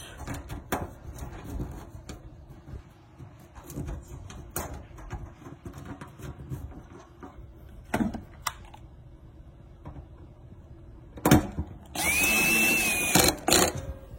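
A power drill drives screws in short bursts, the longest near the end, between quieter handling clicks and taps, close by and moderately loud.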